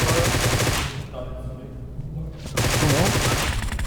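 Loud automatic gunfire in PUBG Mobile: a dense rattling burst for about a second, a short lull, then another sustained volley close by, with voices faintly audible beneath.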